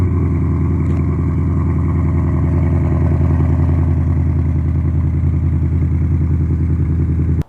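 A 2022 Ford Mustang GT V8 with quad tailpipes idles at a dealership after a cold start, with a loud, steady, deep burbling rumble that holds evenly before cutting off abruptly at the end.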